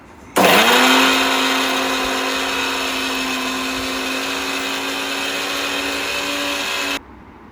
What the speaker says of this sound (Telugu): సో ఆ లీవ్స్ అన్నీ ఒక మిక్సీలో వేసుకొని కొంచెం వాటర్ యాడ్ చేసుకొని ఇది మంచి పేస్ట్ చేసుకోవాలి గైస్